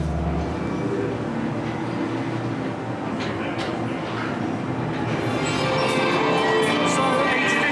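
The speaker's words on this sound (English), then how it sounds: "So a traditional Omnimover dark ride." Omnimover ghost train dark ride at Phantasialand, with three-seat cars: a steady, loud mechanical rumble of the ride system rolling along its track, continuous throughout with scattered higher clanks and hisses toward the end.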